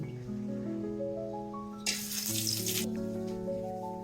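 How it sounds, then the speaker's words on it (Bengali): Cumin, cardamom and cinnamon hitting hot oil for a chicken curry, giving a sudden loud sizzle burst of about a second under a background of steady tonal hum, then settling back to a quieter hiss. "আমার তেল গরম হয়ে গেছে আমি সম্বারে চিকন জিরা এলাচ দারচিনি এগুলো দিয়ে দিচ্ছি"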